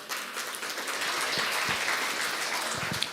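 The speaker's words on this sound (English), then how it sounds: "Let's give a round of applause, ladies and gentlemen" An audience at a television series launch event applauds continuously, a dense, steady patter of many hands with a few louder claps near the end.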